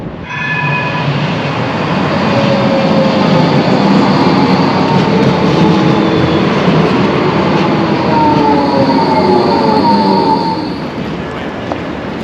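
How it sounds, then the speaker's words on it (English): Steady, loud rumble of a tram riding along the rails into Adelaide city centre, with faint metallic squeals and whines rising and falling throughout. "Getting the free tram up to Adelaide city centre from the hotel"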